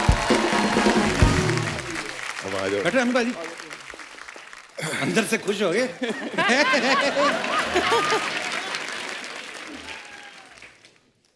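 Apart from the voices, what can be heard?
applause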